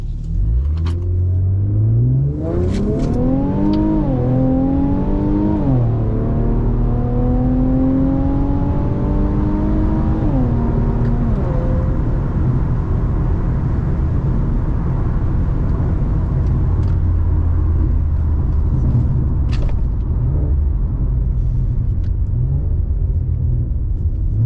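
An Infiniti Q50 pulls hard at 4 AM, its engine loud and close as it climbs through several revving gear pulls, then settles into a steady driving rumble, with no voices.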